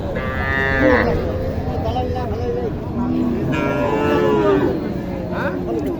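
Cattle moo repeatedly at the Mataji cattle market in Naogaon, Bangladesh, several long low calls close by, over a steady murmur of crowd noise and background chatter.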